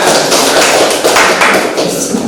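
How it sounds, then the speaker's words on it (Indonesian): A class of students claps hands together in time to a children's song, a dense, loud and steady run of close slaps lasting the whole stretch with little voice over it. "Kalau kau suka hati semuanya, tepuk tangan semuanya."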